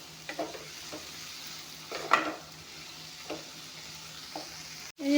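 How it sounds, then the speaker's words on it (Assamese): Beans with ginger, garlic and chili stir-fried in a pan, a soft steady sizzle punctuated by several scraping strokes of a spatula, quiet and close, ending in a sharp clatter. "বিনখিনি ধুনীয়াকৈ ভাজি ল'লোঁ।"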